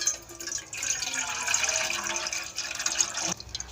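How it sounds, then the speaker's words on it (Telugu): Dissolved jaggery liquid poured through a strainer, a continuous close trickling stream of liquid running for a few seconds before it briefly cuts off. "ఇప్పుడు దీన్ని వడపోసుకుందామండి"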